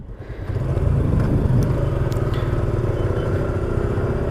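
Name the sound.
Suzuki Gixxer motorcycles setting off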